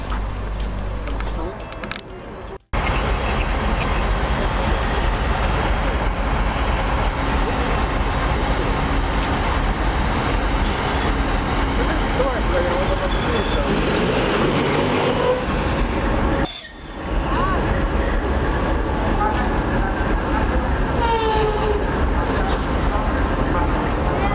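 A train rumbles and clanks close by as railcars are shunted near Sochi-Adler, Russia, with a steady roar, squealing wheels and brief pauses in the noise.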